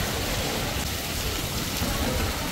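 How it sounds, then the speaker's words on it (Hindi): Heavy rain pours steadily and loudly throughout, a dense close hiss of falling water with no pauses until a brief cut at the very end. "ये देखिए ये कौन सा बारिश है, ऐसा बारिश मैं पहली बार देख रही हूँ भाई"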